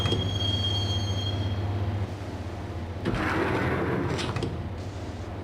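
In the video game Max Payne, a train rolls along its rails with a loud, steady rumble and a thin wheel squeal. Clanking and rattling rise partway through, and no voices are heard.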